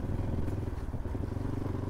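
A Royal Enfield Bullet motorcycle ridden on a rough, broken off-road mountain road gives a steady, close, low engine rumble with faint rattles and no talk over it.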